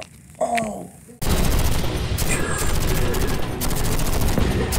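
Sustained heavy gunfire aimed at zombies, a loud, dense stream of rapid shots that starts abruptly after a brief spoken exchange and continues without a break to the end.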